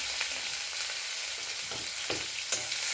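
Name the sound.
onion paste and chopped onion frying in oil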